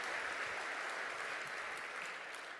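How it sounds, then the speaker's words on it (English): Applause from a corporate conference audience, heard as a faint, even wash of many hands clapping that fades slightly toward the end. "Let's give Bella a round of warm applause."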